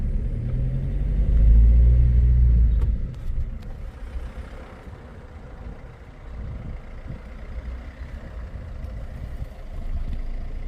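A vehicle passes on a road through Thalavadi Forest, with a heavy engine rumble that swells close by early on, then recedes to a fainter drone.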